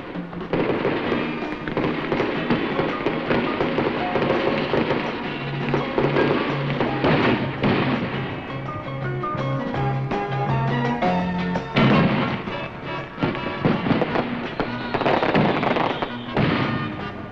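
Fireworks burst over the Thames at night in a loud, continuous barrage of booms, crackles and sharp bangs, with dense overlapping explosions throughout and no talk.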